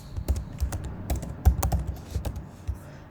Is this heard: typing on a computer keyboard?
yes